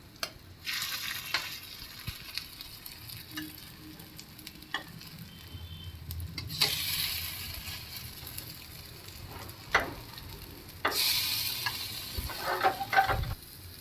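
Small kolim shrimp patties sizzling in a pan, a continuous frying crackle punctuated by scraping and clattering bursts as a spatula flips them.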